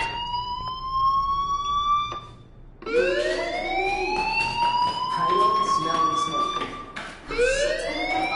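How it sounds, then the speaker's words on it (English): A fire alarm rings in Life is Strange, loud rising electronic wails that repeat in cycles with brief gaps, close and sustained. "do you hear that fire alarm?"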